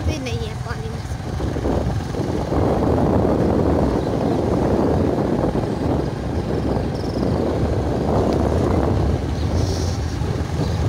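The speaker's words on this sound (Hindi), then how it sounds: "हवा बहुत तेज़ है।" Strong wind blows on a drive after evening rain, roaring steadily and loudly across the microphone. The rush swells and buffets throughout, and someone talks faintly underneath.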